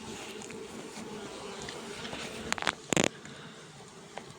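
Honey bee swarm buzzing steadily and close while being transferred from Ruta-type hive frames to Ukrainian-type frames, with a few brief sharp clicks and knocks of frame handling near the end.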